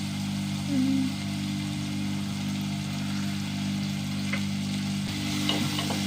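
Curry leaves and spices sauté in a pan with a steady, close sizzle and crackle, with an occasional faint stir and light clatter underneath, and no voices.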